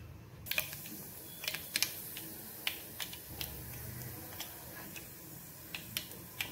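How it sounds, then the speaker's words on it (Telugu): Tempering spices crackle and pop in hot oil in a pan for a tomato and broad bean curry, a faint sizzle broken by sharp, irregular spits and ticks. "ఆయిల్ వేడెక్కిన తర్వాత పోపు దినుసులు వేసుకుందాం."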